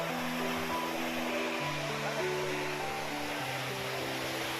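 Sea waves wash steadily onto New Digha beach, a continuous broadband surf roar at moderate distance with some low tonal hum running underneath and no speech.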